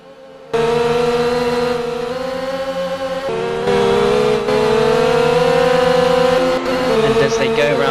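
Formula 2 race cars roaring around the Bahrain circuit, a loud harmonic engine whine that kicks in suddenly, then steps up and down in pitch through gear changes, with overlapping engine tones as cars fight wheel to wheel.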